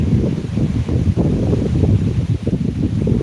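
Rushing floodwater of the Bindusara river at Beed, a loud, steady roar of churning water with constant low turbulence and no voices.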